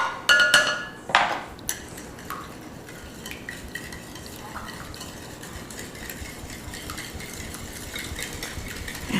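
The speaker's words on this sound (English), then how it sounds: "this is going to take a few seconds to mix all together" Mayonnaise being stirred into a dressing in a bowl: a few sharp utensil clinks at the start, then steady, soft scraping and stirring that continues close by without talk.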